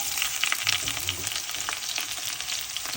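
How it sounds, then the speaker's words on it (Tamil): Onions sizzle and fry in a pan for a Tamil crab gravy, a steady close crackling hiss with a few stirring scrapes, and no voices. "நெக்ஸ்ட்டு ஆனியன் போடணும். ஆனியனை போட்டுடலாம்."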